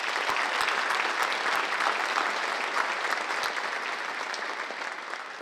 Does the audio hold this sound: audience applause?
yes